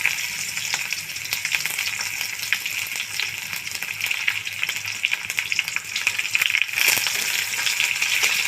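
Chopped tomatoes hitting hot oil in a pan for a potato and fish curry, a loud, dense sizzle with crackling spatter that swells and stays strong throughout.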